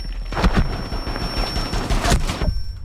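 A frag grenade goes off in Rainbow Six Siege, a loud close blast with a sharp burst of debris and a second crackling impact before the roar cuts off into quiet.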